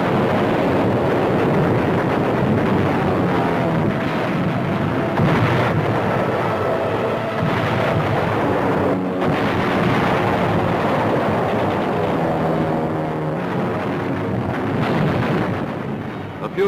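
Navy bombers blast the fortified islands of Truk Atoll in wartime, a continuous loud rumbling roar of explosions and heavy bombardment with surging booms, as on an old newsreel soundtrack.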